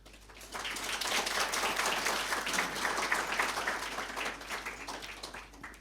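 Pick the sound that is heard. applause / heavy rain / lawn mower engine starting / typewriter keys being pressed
applause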